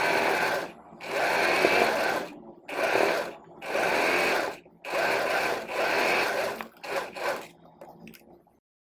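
Sewing machine stitching kurti fabric, several loud close bursts of rapid whirring stitching separated by short pauses, ending with a few shorter runs before stopping.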